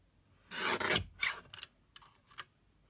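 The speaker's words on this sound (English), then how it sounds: "So I'm going to get my handy little trimmer." A handy little paper trimmer slices through card in one longer rasping pass followed by a few shorter scrapes, close and fairly quiet, with no voices.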